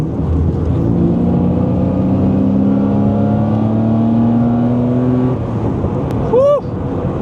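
A modified BMW E36 328i with its M52 engine accelerates hard, the rising engine note climbing through the gears as a loud, close drone, then falling away into a brief chirp-like burst near the end.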